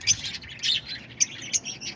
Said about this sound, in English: The lovebirds are a little bit more noisy